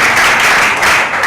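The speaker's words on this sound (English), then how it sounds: "Can we give a round of applause to my brother again?" An audience at a university event breaks into a short, loud burst of dense applause, a close wash of clapping.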